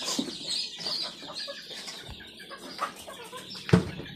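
Chickens on a game farm in Canlaon, Negros Oriental, with scattered clucks, fluttering wing flaps and a sharp burst of flapping near the end, set against busy rustling barnyard activity.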